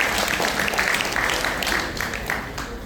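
An audience applauds at a mango festival at Sri Varasiththi Vinayagar temple: dense, continuous clapping from a crowd, close and fairly loud, fading a little toward the end.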